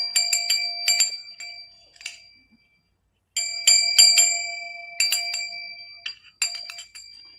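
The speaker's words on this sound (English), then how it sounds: "And then the last 2 are just like the little bells." Small bells offered in a live sale, handled and shaken in bursts of bright, clear ringing and clinking, close and loud, with a brief quiet gap before the jingling resumes.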